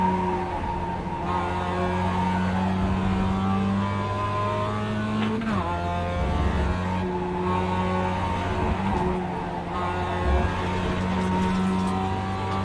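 A racing car engine during a race holds a steady loud drone with shifting pitch, briefly blipping under braking and then pulling again, with no talk over it.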